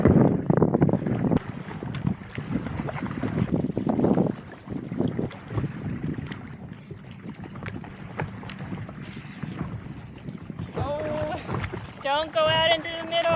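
Wind buffeting a paddleboarder on a river at Flaming Gorge, Utah, a loud rushing roar with gusty microphone noise and light water splashing, while a person talks at times.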